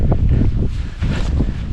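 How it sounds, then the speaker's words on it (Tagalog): Strong wind on a Japanese mountain at dusk, heavy gusting rumble buffeting the microphone in close, uneven bursts with no talking. "Malakas pa yung hangin."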